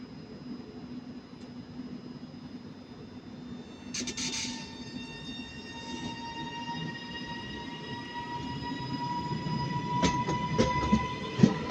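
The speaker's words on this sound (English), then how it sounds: "This is the 1318 Northern service to Manchester Airport." A Northern train bound for Manchester Airport at Manchester Piccadilly station hums steadily with a fairly loud, sustained whine of electrical tones, and sharp, squealing bursts rise near the end.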